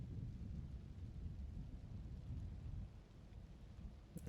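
A ball lightning spell in Diablo 4 crackles and rumbles as a steady, thundery low roll with faint hissing on top, dipping slightly toward the end.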